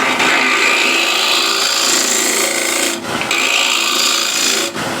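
A spindle gouge cuts wood on a lathe spinning at 1600 RPM, giving a loud, close, continuous scraping rasp with two brief dips where the tool lifts off.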